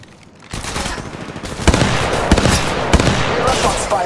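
Gunfire in the mobile battle royale Apex Legends Mobile, a dense stretch of rapid shots with a few sharper, louder bursts standing out near and steady throughout, with speech faintly underneath.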